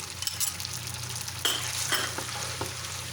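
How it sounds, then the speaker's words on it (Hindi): Chicken pasta mixed with mayonnaise in a bowl, soft wet stirring with a few light clinks of a utensil, close and quiet, no talking. "इन सब चीज़ों को अच्छी तरह मिक्स करें।"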